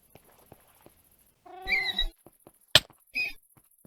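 A cat in the Minecraft modpack FTB Omnia gives one short meow, then a sharp thunk and a faint second cry follow, all close and fairly clear against near-silence.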